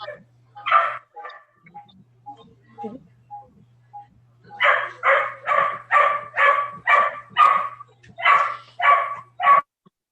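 A dog barks close by: a few scattered barks and soft whines at first, then a rapid run of about a dozen loud, evenly spaced barks.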